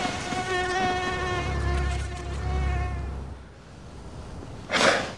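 A mosquito buzzes in flight close by, a thin, steady whine with stacked harmonics that drifts in pitch for several seconds before fading, then a brief burst of noise at the end.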